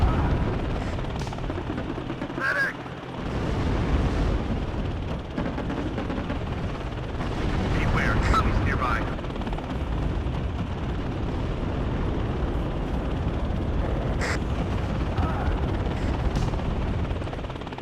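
An Apache attack helicopter in the strategy game WARNO rumbles continuously while its 30mm Gatling gun fires, heavy bursts and explosions rolling over a loud, sustained rotor drone.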